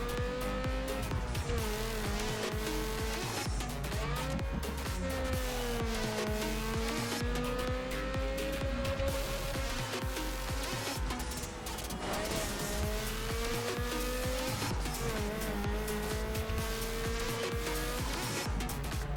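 A Mazda RX-7 in a Need for Speed Underground 2 SUV race, its engine droning and rising and falling in pitch through gear changes, loud and constant with tyre noise behind it.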